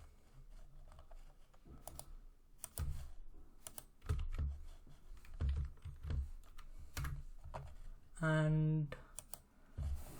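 Password typed on a computer keyboard: bursts of quick, close key clicks with brief pauses, a louder chime-like tone near the end, and a short spoken word in between.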